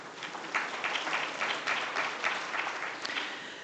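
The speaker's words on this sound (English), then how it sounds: "Let's give them again a warm round of applause." Conference audience gives a warm round of applause in a hall, a steady moderate wash of many hands clapping for several seconds with no talk over it.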